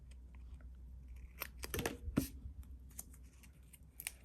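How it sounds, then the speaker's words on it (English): Scissors snip through paper for an art journal page, a few sharp, close cuts clustered near the middle, quiet and crisp against a near-silent room. "I'm going to cut the bottom off of that"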